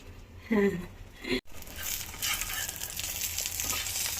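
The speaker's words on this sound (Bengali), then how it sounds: "বেশি ডিম ভাজাও করে নিচ্ছি।" Eggs frying in a pan for khichuri, with a steady bright sizzle that grows and holds after a short burst of voice-like sound and a brief cutout near the start.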